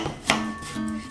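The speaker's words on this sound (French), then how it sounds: "Là, je vais couper en brunoise assez fine." A knife chops vegetables into a fine brunoise on a cutting board, making a few quick, close taps with one sharper knock near the start, with a faint background hum.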